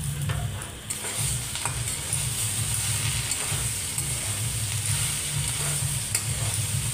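Spiced potato and carrot vegetables with curry leaves and chilli powder are stirred in a hot pan, giving a continuous sizzle under repeated scraping and clinking strokes of the spoon, close and steady.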